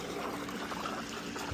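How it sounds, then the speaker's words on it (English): Water pours and trickles steadily into a container to top it up, with a close, continuous splashing flow. "I need to put a little bit more water in this"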